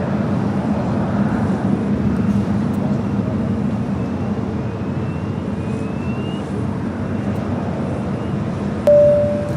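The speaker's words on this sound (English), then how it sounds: "KLM up next for arrival here on the south side" A KLM airliner arriving on the south side runways at LAX, its jet engines a steady, moderately distant roar that drones on throughout, with a brief thin tone near the end.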